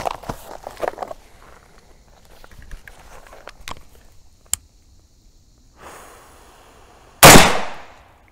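A single sharp rifle gunshot bursts out loud near the end with a decaying echo, after scattered quiet footsteps and handling noises.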